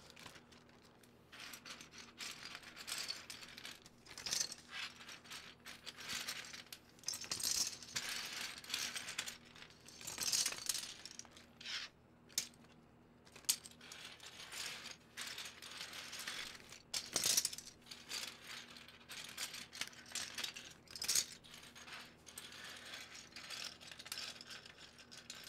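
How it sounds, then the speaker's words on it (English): Hard plastic keycaps for a Southpaw full-size mechanical keyboard build clatter and click as they are handled and put away, with scattered light taps and rattles at close range and no talking. "let's put the rest of these keycaps away"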